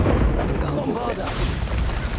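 The Bombarda blasting spell going off in the Hogwarts Legacy video game: a loud, deep booming explosion followed by a rolling rumble, with a voice speaking over it.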